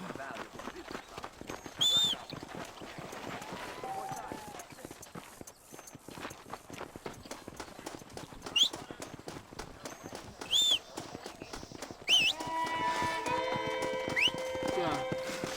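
Horse hooves clatter in a rapid, steady rhythm in a Western video game set in Armadillo, moving along under faint game ambience with a few short whistly cries and a denser musical layer near the end.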